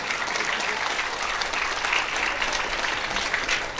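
A large crowd at an Islamic sermon claps steadily and loudly, a dense sustained applause with no break throughout.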